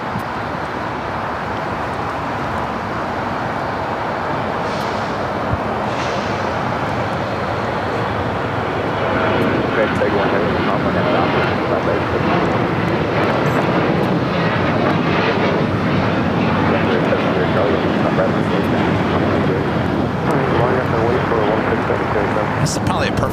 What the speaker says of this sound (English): Our next takeoff is Southwest Airlines 518, taking off to St. Louis